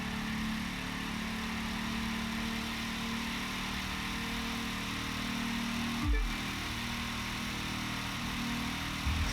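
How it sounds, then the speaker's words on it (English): A car engine from the racing game The Crew 2 drones at a steady idle-like hum, loud and continuous throughout, with a brief low thump partway through. "Such a distinct, like unique engine sound in this car."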